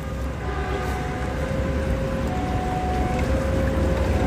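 A train rumbles past close by with a continuous low roar and a sustained tonal whine running through it, loud and steady throughout.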